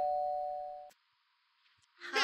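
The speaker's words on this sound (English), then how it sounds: "Ding Dong, come in." A doorbell gives a clear two-tone ding-dong that rings out and fades, then goes quiet before a voice starts speaking at the end.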